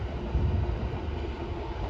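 A low, steady rumble of a small train in Japan rolling past, continuous and fairly close, with no voices.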